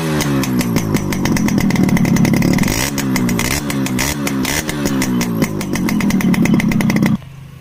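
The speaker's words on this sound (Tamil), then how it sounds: "பார்த்தீங்களா இதுதான் எக்ஸாஸ்ட் சவுண்டு" Exhaust of a Yamaha RX 100 two-stroke motorcycle revving loud and close, its buzzy pitch rising and falling through repeated throttle blips before cutting to a quieter idle at the end.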